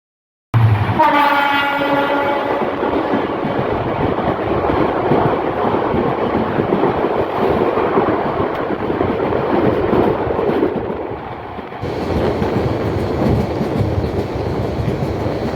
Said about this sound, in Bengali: এই মুহূর্তে আমাদের সাথে দেখা হবে চট্টগ্রাম থেকে ছেড়ে আসা ঢাকা অভিমুখী ট্রেন